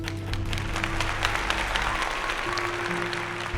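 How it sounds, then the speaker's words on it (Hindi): An audience at a Bible quiz competition claps steadily for a few seconds, a dense, moderately loud wash of applause with a low hum underneath. "जोरदार तालियां दीजिए।"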